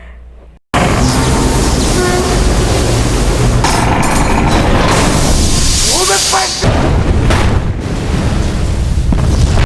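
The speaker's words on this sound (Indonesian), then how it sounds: "Ledakan dahsyat pun terjadi." A dramatized nuclear reactor explosion in a film about a power plant disaster: a loud, sustained booming roar with rumbling debris and crashing that fills the whole clip, with a brief quiet lead-in.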